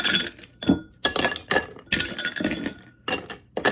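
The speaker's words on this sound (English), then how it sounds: "let's fill the glass up with ice" Ice cubes are dropped into a hurricane-style cocktail glass, giving a dense run of sharp, bright clinks and clatters close to the microphone, with no speech.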